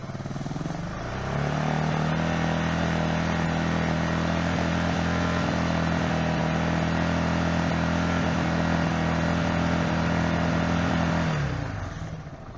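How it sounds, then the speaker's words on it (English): A Beta Alp motorcycle engine held at high revs, a loud steady droning buzz sustained for about ten seconds before dropping away. "Now I'm going to rev the bike to give maximum."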